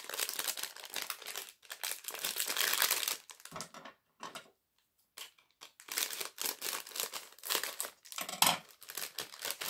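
Paper wrapping crinkles and crackles loudly as an advent calendar gift is unwrapped close to the microphone, in bursts of crumpling separated by brief pauses and one longer silence midway.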